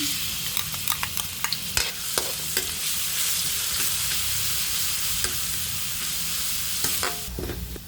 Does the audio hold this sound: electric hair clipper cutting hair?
no